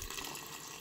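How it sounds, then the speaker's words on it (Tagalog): Water pouring from a gallon container into a cooking pot, a soft, steady splashing stream that stays faint and brief, with no talking. "lagyan ko na po ito ng tubig"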